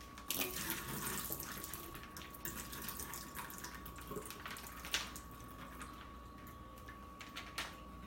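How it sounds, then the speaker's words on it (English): Water from a packet of shirataki noodles drains through a kitchen filter into a sink, a steady faint trickle and splash with a few small clicks and knocks, no talking. "I have this filter, so I'm going to drain the water using it."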